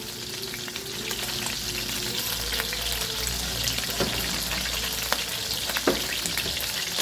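Burger steak frying in a pan with water added, a loud steady sizzle and bubbling hiss throughout, broken by a few sharp clinks and scrapes of a utensil against the pan.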